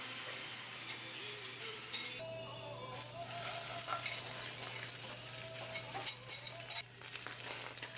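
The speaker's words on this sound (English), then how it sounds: "I just love the sound it makes when you pour it into the pan and it sizzles like that." Whisked eggs sizzle steadily in an oiled pan, with a continuous close frying hiss and a few soft stirring and clinking sounds from the pan throughout.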